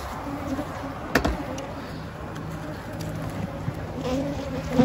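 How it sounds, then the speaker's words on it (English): Honey bees buzz around an open beehive being inspected, a soft continuous droning hum close by with a few brief clicks and handling knocks. "Lots of bees."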